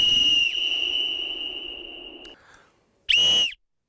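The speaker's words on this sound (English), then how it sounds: "I went and bought the world's loudest whistle." A piercing, very loud whistle sold as the world's loudest at 142 decibels blasts in a long sustained tone, then stops, followed after a brief silence by a second short shrill burst.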